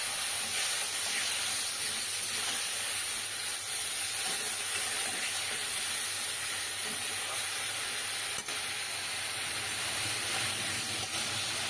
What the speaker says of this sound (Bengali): অল্প জল দিয়ে আর একটু কষিয়ে নেব।